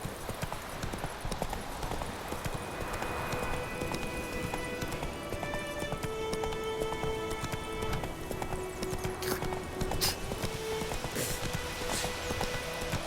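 Geralt's horse Roach gallops in The Witcher 3, hooves clopping in a steady fast rhythm for the whole stretch, close and clear over soft ambient outdoor sound and a faint music line.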